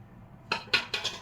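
A spoon clinks against a bowl while grated mango is mixed with salt for a mango pickle, giving four short, close scraping knocks over a quiet background.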